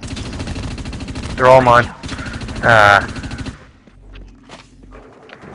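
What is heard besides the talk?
gunfire in the video game Dust 514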